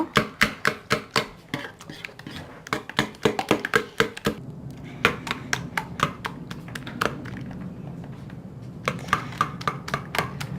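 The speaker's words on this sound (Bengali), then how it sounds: "এবার দিয়ে এটাকে ভালো করে নাড়াচাড়া করে নেব, সবগুলো মিশ্রণ একসাথে করে নেব।" An egg mixture for a bread pizza being stirred and beaten in a bowl, rapid sharp utensil taps in quick bursts, a brief pause, then more clacking, close and alone without talk.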